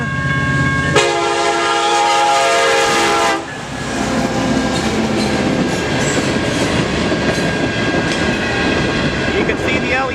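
A Canadian National freight train passes a railroad crossing with a loud, sustained horn blast that cuts off, then a continuous heavy rumble and clatter of rail cars rolling by up close.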